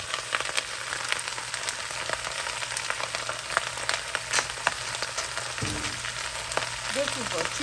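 A 2-pound bag of Brussels sprouts fries in a pan over high heat, crackling and sizzling steadily up close with scattered sharp pops, and a soft clatter of stirring near the end.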